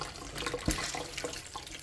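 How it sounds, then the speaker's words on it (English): Water drains from a bag of vegetables for coleslaw after holes are stabbed in it: a short splash and gurgle about midway, over a soft, steady background. "Drain the water out, as so."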